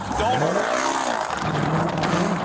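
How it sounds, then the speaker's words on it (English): A car fleeing from police speeds away with a rising engine roar and tire noise, loud and close, while people talk over it. "Vehicle took off."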